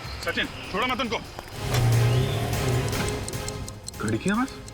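A bomb planted under a car ticks steadily beneath a running engine hum, the regular ticks heard between bursts of tense, shouted speech from the people in the car.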